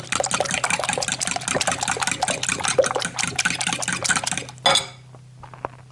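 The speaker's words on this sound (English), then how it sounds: "Just mix the eggs a bit." A fork whisks eggs in a bowl, a quick, steady run of close clinking and tapping strokes that stops abruptly near the end and is followed by a brief clatter.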